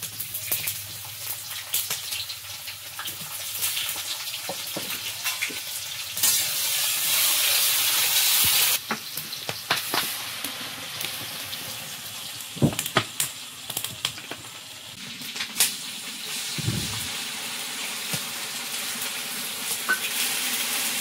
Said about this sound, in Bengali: তেলের মধ্যে 5 ফোড়ন দিয়ে দিলাম